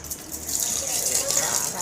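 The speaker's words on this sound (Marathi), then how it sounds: "ते सुद्धा आता आपण पाणी टाकायचं सुरू करूया." A continuous stream of water pours onto potted plants, a close, even gushing hiss that carries through the whole moment.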